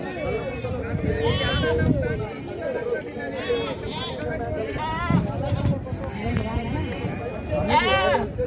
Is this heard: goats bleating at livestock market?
yes